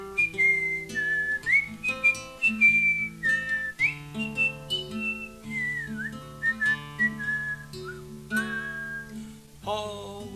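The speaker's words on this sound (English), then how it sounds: "Whistle." A person at a home open mic whistling a tune, a clear, close melodic line of bouncing notes over a soft accompanying backing, with no talking.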